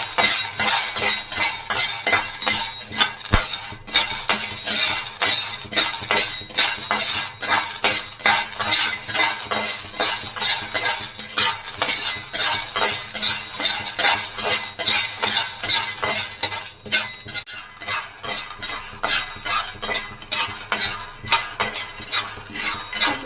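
Peanuts roasting in a pan on the stove, stirred with a metal utensil: a steady, busy stream of dry scraping, rattling and light sizzle, with rhythmic clinks against the pan throughout and no talk.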